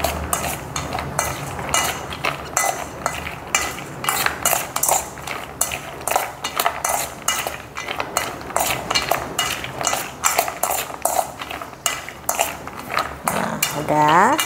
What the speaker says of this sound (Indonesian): Aduk-aduk seperti ini.